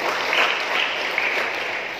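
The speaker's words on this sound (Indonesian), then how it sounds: "Tepuk tangan untuk Bu Kadis Bu." Steady, dense applause from an audience at a regency head's speech for a domestic vocational apprenticeship training program in Malaka, Indonesia, loud and continuous with no talk over it.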